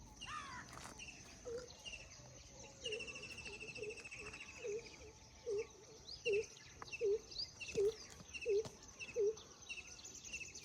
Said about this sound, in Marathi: जिथे पक्ष्यांचा चिवचिवाट